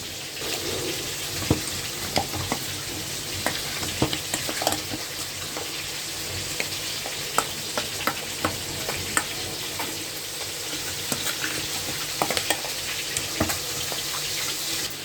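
Katla fish pieces being stirred by hand or spoon with garlic and ginger paste for marinating, a wet, squelchy mixing texture with scattered small clicks and taps, steady and close, with no talking.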